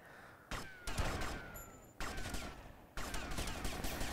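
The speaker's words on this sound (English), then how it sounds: "So I don't know why I'm still shooting down here" Gunfire in Grand Theft Auto: Vice City, three loud bursts of rapid shots starting abruptly about a second apart, each followed by a ringing tail, with no speech.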